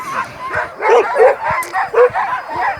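A pack of hunting hounds barks and yips in quick, overlapping bursts close by, with some whimpering mixed into the excited chorus.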